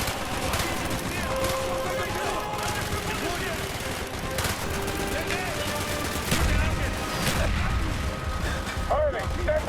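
Rapid gunfire rattles nearly nonstop in the Call of Duty Black Ops video game, sharp close shots and bursts mixed with heavier impacts, while soldiers shout in German over the battle.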